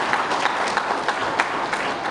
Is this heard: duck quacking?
no